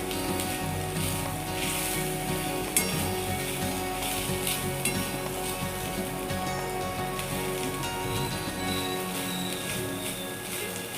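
Grated coconut roasting in a pan gives a soft, continuous crackling sizzle with occasional light stirring scrapes, steady and fairly quiet throughout.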